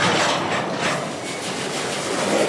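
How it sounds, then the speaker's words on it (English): A train rolls through the area near the rail yard in Ogden, Utah, where trains slow to a creep: a steady, broadband rumble with soft rail noise that holds at an even loudness throughout, with no voices. "Blocks from where the trains slow to a creep."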